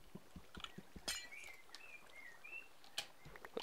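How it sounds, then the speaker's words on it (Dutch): Minecraft bird chirps, faint scattered tweets and short whistled calls over soft ambient game sound and light tapping noises. "Ik hoor de vogeltjes fluiten bij jou."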